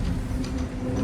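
A Toronto TTC subway train slows down on a rainy day, a steady, loud rumble of wheels and motor with a low hum and no voices.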